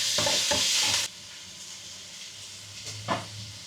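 Tomatoes fry in hot oil with a loud bright sizzle that drops suddenly after about a second, leaving a quieter hiss with a brief stirring flare later.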